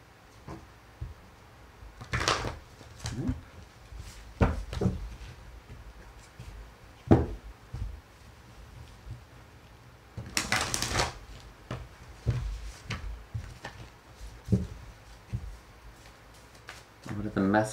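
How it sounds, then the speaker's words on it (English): A deck of tarot cards being shuffled in bursts, with quick riffling rustles and soft taps separated by pauses, close and fairly faint. "I'm gonna start shuffling the deck now."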